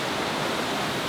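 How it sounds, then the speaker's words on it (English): Steady broadband roar of a hidden waterfall in Bali, a dense continuous wash of falling water filling the whole clip at close range with no voices. "My first waterfall in 2022."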